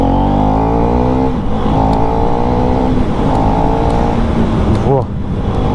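A KTM Duke 390 motorcycle pulls hard from second gear in track ride mode, its engine note climbing in a loud, continuous rising drone with a brief dip near the end, close to the microphone.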